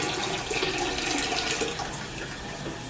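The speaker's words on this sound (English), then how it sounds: "The toilet won't flush. The water's running and I don't know why." A toilet that will not flush has water running continuously, making a steady, close hiss and rush of flowing water with no break.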